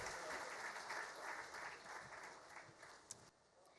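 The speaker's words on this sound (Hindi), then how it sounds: "जोरदार तालियां प्लीज आप बजाइए" An audience at a scholarship event in Indore gives loud applause to welcome the minister onto the stage, a thick wash of clapping that stays strong, then thins and drops near the end.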